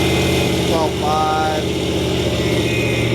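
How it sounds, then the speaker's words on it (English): A 1964 Chrysler engine, restarted after sitting for 25 years, running loudly and close with a steady low rumble that lifts slightly as it is revved, while people talk over it. "Rev it up a little bit."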